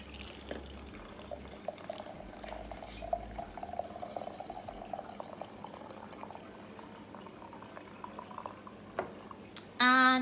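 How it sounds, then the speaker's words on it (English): Liquid is poured into a container outdoors during a herb and nature walk, a soft trickling and dripping that runs for several seconds at low level, with a brief sharp sound at the end. "So I'm just going to pour this in."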